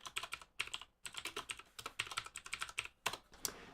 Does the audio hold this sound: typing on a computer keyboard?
yes